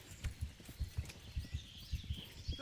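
Steady clip-clop of horse hooves, a regular trotting rhythm of low thuds, fairly close and continuous with no talking.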